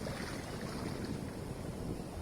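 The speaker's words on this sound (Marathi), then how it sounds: "लाटा कधी एकलकोंड्या होडीला अलगद झुके देतात" Gentle sea waves wash around a lone boat on the Konkan coast, a soft continuous surf hiss mixed with light wind noise, steady and unbroken, with no voices.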